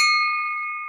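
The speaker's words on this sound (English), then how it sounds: "Joe Goralka rings the bell." A hand bell rings once at a Rotary Club meeting, a single clear metallic strike with a sustained ringing tone that slowly fades, heard alone.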